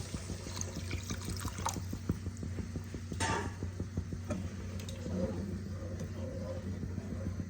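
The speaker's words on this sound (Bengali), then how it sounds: "এবার আমি অল্প করে গরম জল অ্যাড করে দেব।" A little hot water trickles into a pan of egg masala gravy with a faint, thin pouring sound, accompanied by quiet ticking and light clinks against the pan, soft and close.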